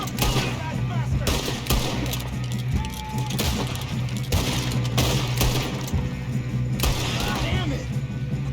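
Gunfire in Red Dead Redemption 2 during a train hijacking shootout, repeated sharp shots in bursts over a droning train rumble, with shouted game dialogue mixed in.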